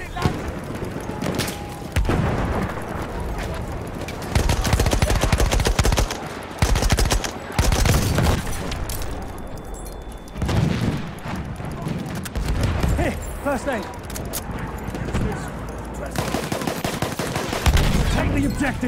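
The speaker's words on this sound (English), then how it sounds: "There's an enemy machine gun." Machine gun bursts rattle through a Battlefield 1 multiplayer battle, with repeated rapid volleys and heavy gunfire spread across the whole stretch, mixed with other battlefield noise and explosions.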